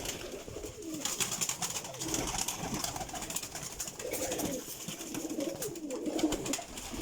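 High-flying breeding pigeons with rings coo in soft, repeated throaty rolls, several birds close by, over a steady background of rustling and flutter.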